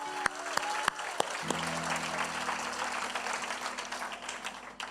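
A church congregation applauds its pastors during a service, a few distinct early claps giving way to a steady crowd of clapping, moderately loud, while a low sustained tone from instruments or a sound system hums beneath.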